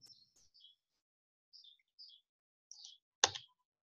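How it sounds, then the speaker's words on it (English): Birds chirping near an office: a series of short, high, thin tweets spaced a second or so apart, faint and fairly distant, followed by a sharper louder call near the end, with no talking. "this sound that I have a birds near my office"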